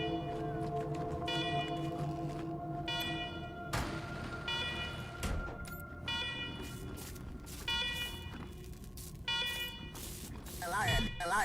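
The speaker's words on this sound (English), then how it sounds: "Alarm, fire alarm." In the Wasteland 3 game, a fire alarm blares inside a secure government facility in a loud, repeating electronic wail, while a voice talks over it for much of the time.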